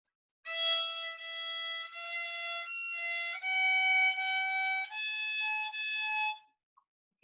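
A violin plays a slow sequence of sustained notes, open E followed by low first, second and third finger positions, each bowed cleanly and alone, with short breaks between them.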